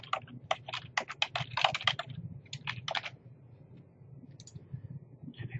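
Rapid clusters of crisp keystrokes on a computer keyboard, close and clear, coming in short bursts with brief pauses between them before a few final taps.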